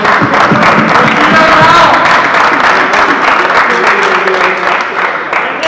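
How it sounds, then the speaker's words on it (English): Loud crowd applause at a club team bid and jersey event, a sustained dense roar of many hands clapping with a few cheers mixed in, continuing steadily throughout. "So can we give a round of applause for him, please?"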